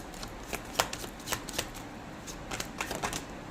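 Tarot cards being shuffled by hand in a quiet room, a steady run of soft papery riffles and flicks with a few sharper snaps, with no talking.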